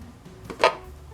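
A knife cuts through a round loaf of Norwegian Sunnmørsbrød dough brushed with melted butter, making a single soft, brief slicing scrape close by in a quiet kitchen.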